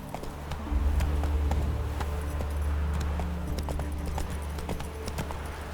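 Roach, the horse in The Witcher 3, gallops with quick, rhythmic hoof clip-clops over a low steady rumble, close and fairly loud, with faint jingling tack mixed in.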